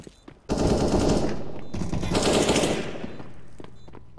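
Rapid automatic AK rifle fire in a first-person shooter video game, a loud dense burst lasting several seconds with a brief break partway through, then fading into echoing tails.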